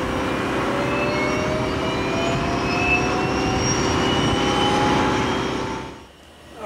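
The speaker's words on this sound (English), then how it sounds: "Thrust levers are shut off. And go for engine 2 startup." Jet engine number two of an airliner spooling up on the ground, a steady loud roar with rising whine tones that climb gradually, then cutting off abruptly near the end.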